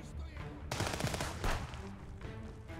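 Gunfire from the Contraband Police video game, a dense burst of rapid shots that jumps in abruptly and keeps rattling for a couple of seconds, set against a low continuous game background.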